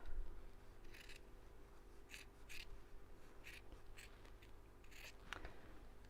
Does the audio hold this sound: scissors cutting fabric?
yes